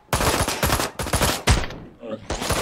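Bursts of automatic gunfire in Ride to Hell: Retribution, five loud rattling volleys in close succession with short gaps between them, near and harsh.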